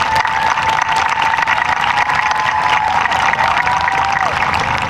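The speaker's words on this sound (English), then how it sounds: "Let's give our parents and families a round of applause" Graduation audience at East Hartford High School applauding parents and families, a steady dense wash of clapping and crowd noise filling the space without letup, with a sustained tone running beneath it.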